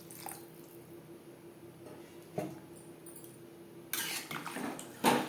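Water poured into a pot of potato and hilsa fish curry on a high gas flame: a short, loud rushing splash in the last second or so, after quiet kitchen background.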